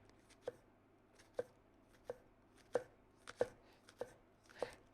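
Large spring onions cut with a sharp knife, the white bottoms sliced thinly on a slight angle: about eight distinct board taps at an uneven pace, fairly quiet and close, with no talk.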